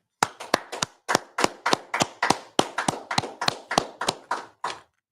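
Sparse, evenly spaced claps from a small audience at a sermon, about sixteen sharp hand claps in a steady rhythm over five seconds, close and fairly loud with no talking.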